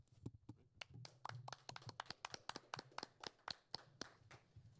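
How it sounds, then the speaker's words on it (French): An audience applauds during a live presentation, a run of sharp individual claps in uneven rhythm, fairly close and somewhat sparse, as if from a small group. "on t'applaudit quand même."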